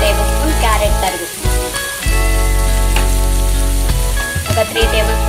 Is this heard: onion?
yes